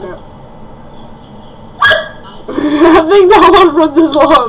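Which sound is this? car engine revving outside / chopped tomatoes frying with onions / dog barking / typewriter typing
dog barking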